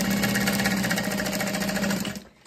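A sewing machine top-stitches the folded edge of a messenger bag pocket in canvas, a fast, even mechanical chatter running close and loud, then stopping abruptly.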